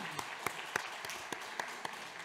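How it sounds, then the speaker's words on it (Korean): Congregation applause in a church, a welcoming round of claps with sharp individual hand claps standing out over a thin, fairly quiet spread of clapping. "반가운 박수 한번 환영할까요?"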